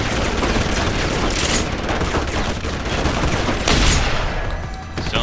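Sustained gunfire in Deus Ex: Human Revolution, a dense, continuous burst of rapid shots with a few louder cracks, steady and close throughout with no talking.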